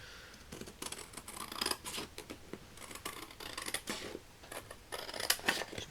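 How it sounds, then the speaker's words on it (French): Scissors cutting paper close up for a shabby-style Mother's Day box, a run of crisp snips and rustles in uneven bursts, louder near the end. "Je vais faire ça au ciseau"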